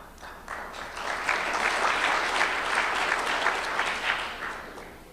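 Sustained applause from a lecture audience, a dense even clatter of many hands at moderate distance that swells and continues for several seconds with no voices over it.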